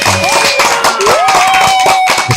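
Studio applause for a musician on a radio show, a short patch of clapping heard under a music track with a sliding melodic line, with brief talk in the mix.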